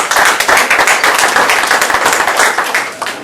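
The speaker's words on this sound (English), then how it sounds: "Round of applause, man." Loud, close applause fills a youth summit hall, a thick wash of many hands clapping for a few seconds before tapering off slightly at the end.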